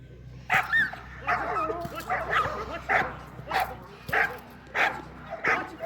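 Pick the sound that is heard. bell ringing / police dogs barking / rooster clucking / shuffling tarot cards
police dogs barking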